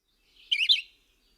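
A warbler or vireo gives a single short, sweet, high-pitched phrase of quick tumbling notes, about half a second long, close to the microphone and alone in an otherwise quiet recording.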